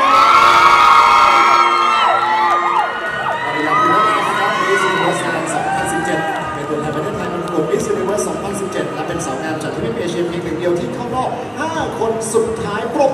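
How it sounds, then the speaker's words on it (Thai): A large crowd of fans at a beauty pageant event cheering and shouting loudly, with high-pitched whoops and screams at first, settling into sustained excited noise. "แฟนๆของมาริยาอยู่ไหนขอเสียงหน่อย"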